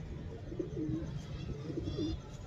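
Soft, low pigeon coos repeat twice in rounded phrases, faint and somewhat distant over a murky background hum.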